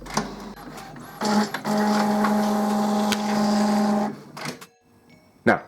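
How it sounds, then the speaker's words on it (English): An Epson Expression Premium XP-900 inkjet printer prints a nozzle check page, whirring and clicking as its mechanism starts, then a sustained steady mechanical hum with a tonal whine before it stops and settles with a few later clunks. "you can just press the start button to print"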